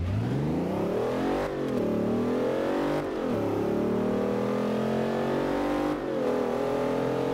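Bentley engine in the racing game Forza Horizon 2 revs loudly and continuously, its pitch climbing and dropping through several gear shifts with brief dips near two and six seconds, heard alone without talk.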